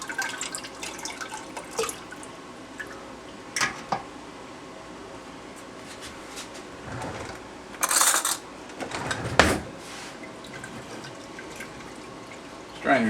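Tomato pulp is strained into a pot of sauce, giving intermittent wet splashes and drips in uneven bursts, some loud and close, between quieter stretches of faint liquid trickling.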